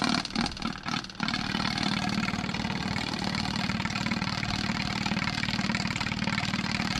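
An old mini truck that sat for years, an ex-U-Haul box van running on a backup gas tank, cranks with a few choppy bursts. A steady loud mechanical hum then follows, with no talk.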